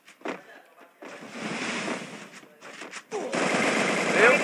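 Bursts of rapid game gunfire crackle in quick succession, with short pauses and a louder stretch toward the end.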